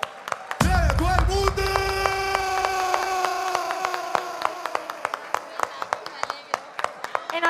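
Applause rises at an urban music contest, a broad wash of clapping under a loud announcer's voice and a sustained musical tone, with sharp individual claps continuing as the cheering carries on.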